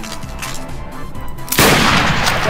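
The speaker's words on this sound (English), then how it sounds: "I will be sniping Liam in a second because he has just killed me." A sniper rifle fires in the video game Garry's Mod: a single loud, sudden blast that hits hard and leaves a dense, noisy roar trailing on after a quieter stretch of background game sound.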